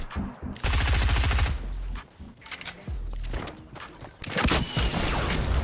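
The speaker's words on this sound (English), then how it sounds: "This guy does have a shotgun." Gunfire bursts out in a Fortnite match during a fight on a rooftop against an opponent carrying a shotgun, with several sharp, loud shots in quick succession and clattering in between.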